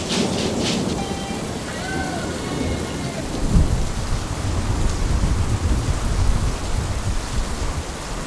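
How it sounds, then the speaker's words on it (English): Steady heavy rain pouring through a dark afternoon thunderstorm, with a low rumble of thunder swelling midway; no voices over the dense, continuous hiss. "there is a storm rolling in and it is so dark"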